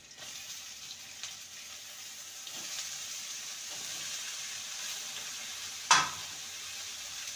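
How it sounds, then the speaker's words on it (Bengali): Snake gourd and potatoes fry in a pan with a soft, steady sizzle. A single sharp clink sounds near the end. "চিচিঙ্গাটাকেও সাথেও মিলিট দিয়ে ভেজে নেব"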